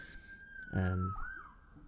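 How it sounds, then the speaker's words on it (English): An ambulance siren passes outside, heard faintly as a steady, slowly bending wail through the walls of an indoor room, with a brief louder low rumble partway through. "And there goes an ambulance."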